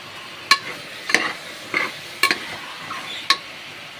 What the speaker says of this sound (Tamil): இப்போ சிக்கனை நம்ம சேர்த்துக்கலாம்.